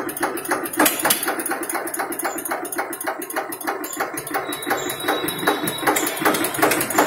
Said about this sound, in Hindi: बढ़िया बढ़िया आवाज है, बड़ी प्यारी आवाज दे रहा ट्रैक्टर